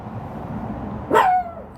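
A small puppy gives a single short, high yip-like bark, close by, rising briefly over a steady low background hum.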